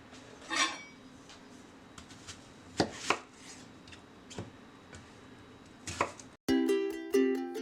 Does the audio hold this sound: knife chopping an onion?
yes